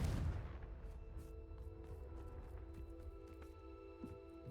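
Confringo blasting spell explodes in Hogwarts Legacy, a sharp boom at the start decaying into a low rumble, with faint scattered clicks and ambient drone afterward.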